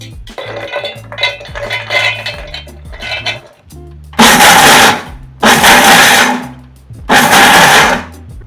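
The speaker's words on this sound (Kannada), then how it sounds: "ಮೊದಲಿಗೆ ಗೋಡಂಬಿಯನ್ನು ಮಿಕ್ಸಿಯಲ್ಲಿ ಪುಡಿ ಮಾಡಿಕೊಳ್ಳೋಣ" A mixer grinder runs in three loud, roaring bursts of about a second each as it powders cashews, following rattling and clinking of the jar and lid being handled up close; no voices.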